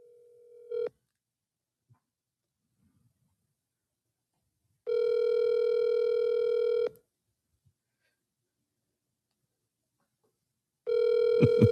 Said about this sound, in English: Are we calling it?